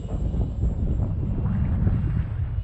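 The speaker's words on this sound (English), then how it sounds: "this is getting a bit too breezy for this thing to be fun to fly" Steady wind buffets an open airfield during breezy conditions for flying a small electric brushless-powered glider, a continuous low rumbling gust noise with no talk.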